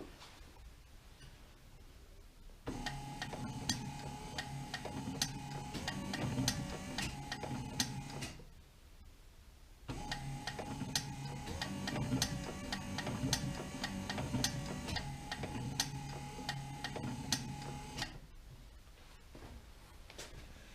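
A car windscreen wiper motor turns its spindle on a bench in two quiet runs of about six and eight seconds, separated by a brief pause. Each run is a faint, steady whir with fine ticking.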